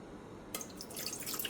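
Rinse water is poured off washed sticky rice after it is rinsed by hand. There is near silence, then a sudden splashing trickle that runs on for about a second, close and fairly soft, with no voices.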